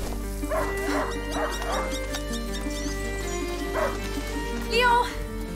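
Hunting dog in the video game A Plague Tale: Innocence barking and yipping in short bursts, with a few whimpers, over a steady low game-music hum and ambient background.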